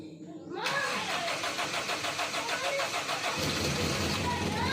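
A car engine cranks and starts after a short silence, then settles into a steady pulsing idle for several seconds, loud and close, with people talking faintly in the background, during a brake check.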